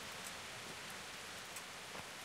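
Rain falls in the video game Kingdom Come: Deliverance as a faint, even hiss that stays steady throughout.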